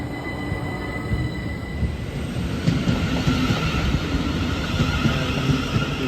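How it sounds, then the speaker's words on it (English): A train passing at a station on the line to Portsmouth Harbour, a steady broadband rumble of rolling wheels and carriages with a faint high squeal, close and continuous throughout. "So this train is going to Portsmouth Harbour"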